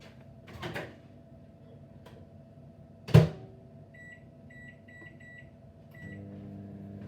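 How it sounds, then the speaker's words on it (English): A home microwave oven finishing its cycle, with a door clunk, a sharp thump, then a series of short repeated electronic beeps over a low steady hum in a quiet kitchen. "that's my microwave gone off"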